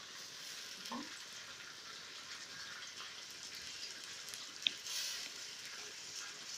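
Washed, drained rice tipped into hot oil and ghee in a pan, giving a steady, fairly quiet frying sizzle throughout, with a small clink partway through.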